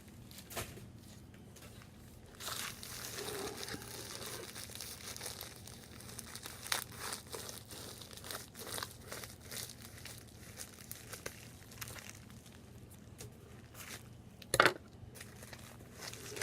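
Plastic bag crinkling during the unboxing of a book comes through as quiet, close rustles and crackles in irregular bursts, with one sharper handling noise near the end.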